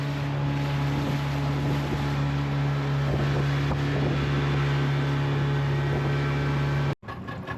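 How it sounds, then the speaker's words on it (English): A motorboat engine drones steadily and loudly on the water off Samoa, with wind buffeting the microphone, then cuts abruptly near the end. "Just out on the boat now."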